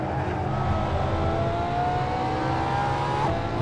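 A Ferrari LaFerrari races around Monza in Assetto Corsa, its engine droning at steady high revs with a rising whine, loud and continuous throughout, with no talk over it.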